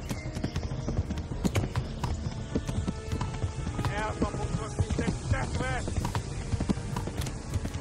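Horse hooves gallop in the video game Kingdom Come: Deliverance: a continuous rapid clip-clop, fairly close, with a brief whinny midway and voices over it.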